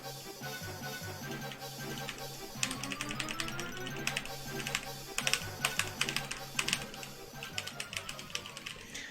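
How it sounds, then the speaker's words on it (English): Rapid rhythmic tapping on a computer keyboard, with crisp clicking keystrokes that grow denser midway, set under loud, tense, dramatic music. "Me rhythmically tapping on a keyboard to panicky emotional music"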